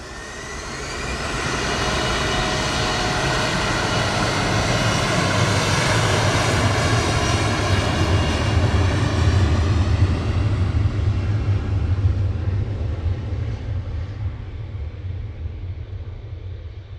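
A jet airliner taxiing out at Manchester Airport rumbles and whines close by, building in a steady roar with tonal engine hums before fading toward the end, with no talking.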